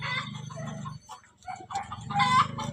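Several chickens cluck and murmur close by, a dense overlapping chatter with a short lull in the middle before the clucking picks up again.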